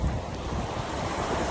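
Waves and wind at a large lake in Oulu, Finland: a dense, steady rush of surf with wind buffeting the microphone, loud and continuous.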